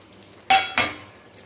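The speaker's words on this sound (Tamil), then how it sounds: "போட்டு எல்லாத்தையும் நல்லா சுருளை சுருளை கிண்டணும்" Two sharp metal clinks of a spoon against a pan while stirring tomato pachadi with fried cashews and raisins, a quick close pair of strikes in an otherwise quiet kitchen.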